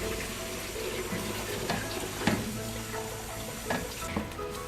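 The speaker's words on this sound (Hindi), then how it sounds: "अब हम इसमें पानी ऐड कर देते हैं।" Water pours into a pot of fried masala for chicken Balochi biryani, a steady close splashing stream with faint sizzling and a few brief clinks beneath it.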